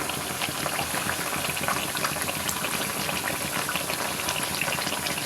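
Bengali oil pitha rice cakes deep-fry in a pan, giving a constant dense bubbling hiss at an even, moderate level from close by, with no talk and a brief knock at the very end.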